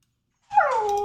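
A dog named Stormy lets out a single close, high whine that rises briefly and then trails off in a drawn-out whimper.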